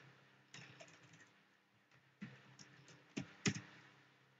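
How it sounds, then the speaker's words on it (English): Computer keyboard keys pressed while entering a password at an SSH login prompt, heard as a faint, sparse run of soft clicks with a few sharper taps near the end. "They asked for a password, so just type in the password."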